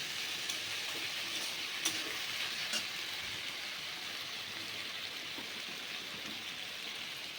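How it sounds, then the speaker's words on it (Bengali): Dried fish and taro stolons frying in a pan, a steady, even hiss of sizzling oil with a few faint pops, close and continuous. "তো এগুলো আমি ভালো করে ভেজে নেব।"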